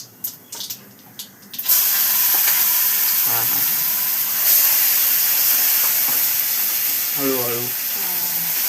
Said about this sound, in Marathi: मिक्सर मध्ये तू वाटलेलं ते चटणीला आता फ्राय करायचं